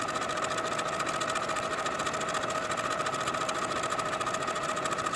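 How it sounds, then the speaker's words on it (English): A sewing machine stitches continuously along the raw edges of a fabric tie with a quarter-inch seam allowance, a close, even, fast mechanical whir that holds steady from start to finish with no talking. "I'll sew along the raw edges from one side all the way across to the other with a 1/4 inch seam allowance."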